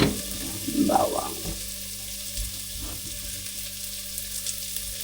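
Garlic sizzles and fries in a pan for binagoongan sa gata, with a soft steady crackle and a brief burst of louder activity near the start as it hits the oil, then settling into a quiet continuous frying hiss.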